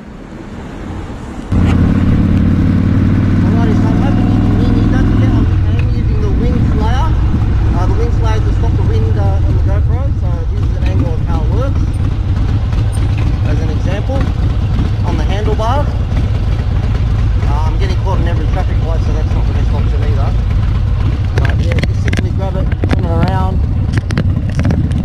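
A motorcycle engine runs steadily and loudly while riding, with a constant drone and shifting pitch as speed changes; it starts abruptly after a brief quiet moment and continues without pause.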